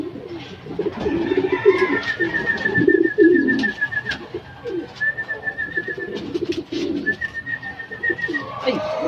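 Pigeons coo steadily in a racing-pigeon setting, soft rumbling calls repeating over a busy bird-filled background, with occasional wing flutters and a thin whistling tone recurring across the scene.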